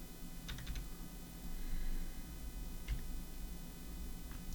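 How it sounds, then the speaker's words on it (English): Code is typed on a computer keyboard, with short bursts of clicky keystrokes separated by pauses over a low background hum, close and moderately quiet. "Let's see me typing all that in."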